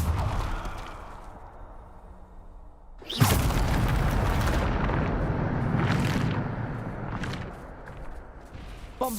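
After a quiet, low rumble, a Bombarda blasting spell in Hogwarts Legacy bursts with a sudden sharp blast, followed by a sustained roaring rumble and a few more whooshing bursts.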